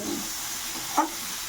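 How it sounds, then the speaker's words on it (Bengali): A soft, steady hiss of chickpeas frying in a pan, quiet and close, with one brief tap partway through. "এই ছোলা ভাজা হচ্ছে"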